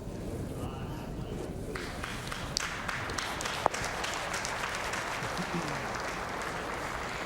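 A crowd at a curling match applauds in a steady, sustained wash of clapping inside an arena, with a few sharper claps standing out and some talk mixed in.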